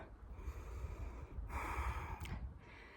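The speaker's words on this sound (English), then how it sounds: "Yes, I'm panting." A hiker on an uphill Appalachian Trail stretch pants heavily, with close, breathy gasps and snorting exhales rising and falling over low wind noise, no speech.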